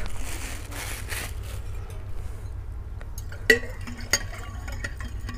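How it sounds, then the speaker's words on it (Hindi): Ajwain and mint extracts being stirred together in a container, with a steady low hum, soft scraping, and a couple of sharp clinks near the end. "इस प्रकार से ये सारी चीज़ें यहाँ डाल दें और डालने के बाद में इसको मिक्स कर दें आप"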